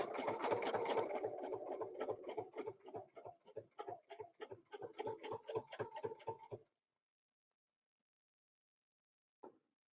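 Sewing machine stitching a quilt along a ruler, running in a fast steady burst of rapid needle strokes for several seconds before stopping, followed by a brief faint click after a pause.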